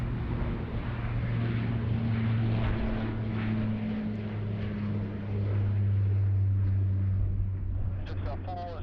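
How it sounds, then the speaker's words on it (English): A Dash 8 turboprop landing at Sydney Airport hums steadily at a distance, a low droning propeller tone held throughout while a voice talks over it. "Lovely to see the Dash 8 making the early right hand turn there off runway"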